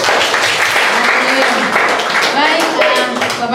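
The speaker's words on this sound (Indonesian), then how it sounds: "tepuk tangan dulu untuk Tuhan" A church congregation claps together in a burst of applause, loud and close, with a speaker's voice running over the clapping throughout.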